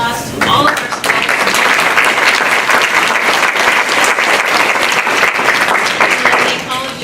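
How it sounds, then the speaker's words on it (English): An audience at a city spelling bee applauds the spellers, a dense, steady round of clapping that holds loud for about six seconds before tapering at the end, with no talk over it. "we want to give a great big round of applause to all of our spellers"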